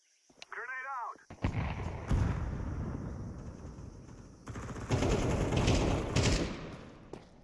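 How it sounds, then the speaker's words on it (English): Grenade explosion in the Counter Strike 2 video game on the Ancient map, with a loud burst and heavy rumbling gunfire-like blasts in two surges over several seconds. "Grenade out."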